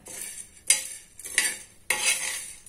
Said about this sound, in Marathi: सांबार मसाला भाजून घेत आहोत